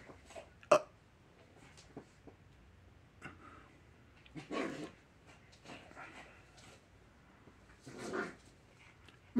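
A small, excitable dog gives scattered short whimpers and yelps at irregular intervals, close to the microphone over a low background hum, with a louder squeal midway and another near the end.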